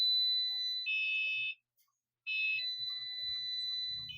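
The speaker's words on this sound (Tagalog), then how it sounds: "naririnig nyo guys yung kanyang beep na nag-iingay" A GEM 3D scanner used as a metal detector emits loud, steady high-pitched electronic beeps while sweeping a floor, the tone shifting pitch, then cutting out briefly before resuming with faint low knocks underneath.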